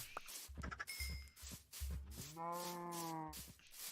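A single Minecraft cow gives a long, low moo, with a short bright chime earlier and a few soft clicks and knocks around it.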